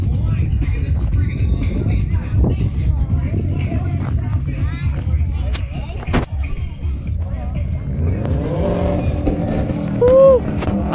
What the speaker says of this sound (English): You hear that EJ20 flat four boxer engine?